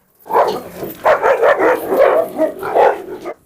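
A pack of dogs barks and snarls in a rough scuffle, with rapid overlapping yaps and growls that stay loud and close almost without a break.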